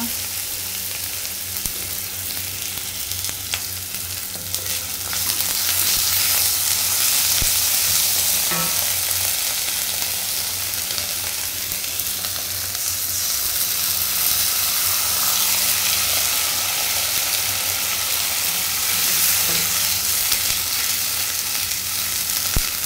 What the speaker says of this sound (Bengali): এখন এর মধ্যে একে একে আমি হলুদের গুঁড়া, লবণ, একটুখানি মরিচের গুঁড়া দিয়ে মশলাটা কষিয়ে নেব